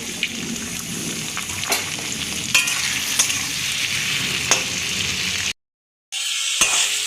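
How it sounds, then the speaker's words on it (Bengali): Prawns coated in salt and turmeric fry in hot oil with a continuous close sizzle, broken by occasional clinks and scrapes of a utensil, then a brief silence before the sizzling resumes. "চিংড়ি ভাজা হয়ে গেছে"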